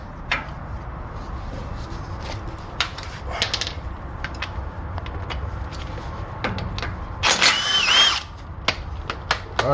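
Short bursts of a power tool whirring while removing a bolt on a Chevy Avalanche tie rod, mixed with clicks and metallic clunks, with one louder, longer burst near the end.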